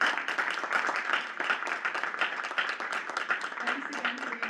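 An audience applauds with a brief, moderately faint round of clapping in a hall, steady and even throughout.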